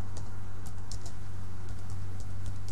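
Computer keyboard typing while entering text into office proposal software, a run of light, irregular key clicks over a steady low hum, close and fairly quiet with no talk.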